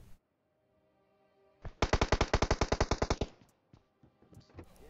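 A sustained burst of rapid machine gun fire in PUBG Mobile, about sixteen evenly spaced shots, loud and close, after a quiet stretch.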